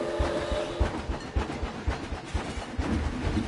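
A roller coaster train in Planet Coaster rolls along its track with a steady, rhythmic clickety-clack and a low rumble, loud and continuous with no talk over it.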